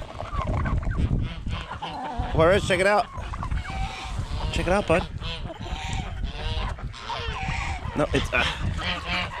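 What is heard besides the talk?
chickens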